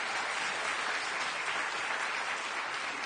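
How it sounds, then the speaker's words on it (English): An audience at a public science forum applauds a speaker, a dense, even roar of many hands clapping that stays steady and unbroken throughout, heard from within the hall at moderate loudness. "Give her a round of applause."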